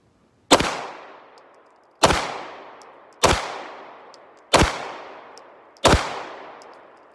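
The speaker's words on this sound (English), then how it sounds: "We'll do 5 more shots with the Glock." Five loud, sharp reports from a Glock 17 9mm pistol, each with a short decaying tail, fired at an even pace roughly a second and a half apart, with no talking.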